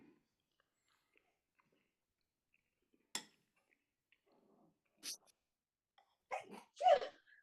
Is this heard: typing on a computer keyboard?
no